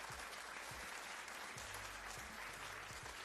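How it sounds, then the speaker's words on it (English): Applause sound effect played on a live photo-critique stream, a steady broadband wash of clapping that stays even and moderately loud across the whole stretch, with no voices over it. "I'm giving it applause."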